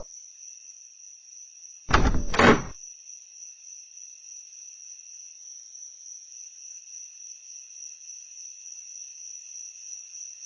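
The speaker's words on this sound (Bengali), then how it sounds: "দরজাটা লাগিয়ে দাও।" A door shuts with a quick double thud, then a steady drone of crickets carries on alone.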